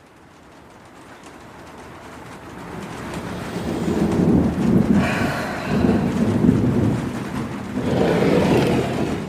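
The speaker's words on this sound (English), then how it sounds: "Not sure if you noticed, but it's raining." Heavy rain pours steadily while low thunder rumbles swell and roll through, growing louder over several seconds, with no voices.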